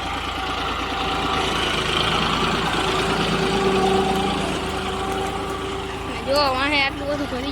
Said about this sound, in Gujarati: મારા દાદા ટ્રેક્ટર આકે છે